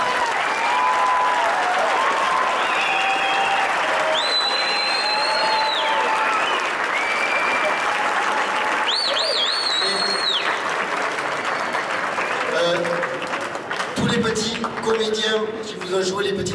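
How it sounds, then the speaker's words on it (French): An audience claps for a children's choir at a school Disney-themed show, sustained applause running the whole time beneath musical tones, whistles and some voices, with a brief lull before the clapping resumes. "on les applaudit derrière"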